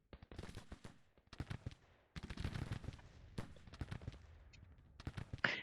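Sharp cracks of rifle fire and heavier cannon booms from an American Civil War battle at Mechanicsville in the Grand Tactician strategy game, coming in irregular volleys and scattered shots with a dense stretch of rolling fire midway.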